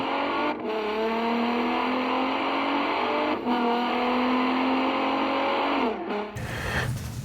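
Steady road noise from a truck on the freeway: a continuous engine and tire drone with a slowly shifting pitch, ending in a brief change in the rumble near the end. No voices.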